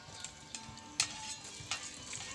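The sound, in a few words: onion and garlic frying in oil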